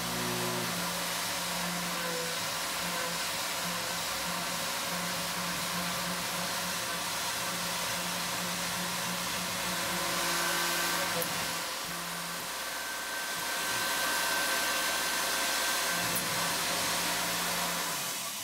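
A CNC mill cuts an edge-break chamfer with a Lakeshore 3/8-inch chamfer tool. It makes a steady, loud, broadband whirring roar that swells slightly partway through, with no talking.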